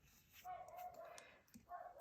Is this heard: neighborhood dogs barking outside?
yes